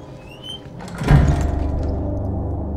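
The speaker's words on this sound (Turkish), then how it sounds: "Bir kapıyı kapat." A door is pushed shut in a quiet room, giving one solid thud with a short rattle and a lingering low resonance after it.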